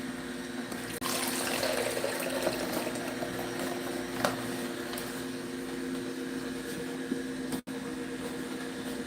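A Nama juicer presses watermelon and pineapple, giving a steady, quiet motor hum with a faint watery trickle close by. A brief click or dropout comes near the end, and no one talks.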